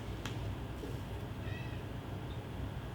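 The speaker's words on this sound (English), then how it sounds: "If you hear a little voice in the background, that's one of the cats." A house cat meows once faintly in the background, a short high call under a low steady hum, otherwise quiet indoors.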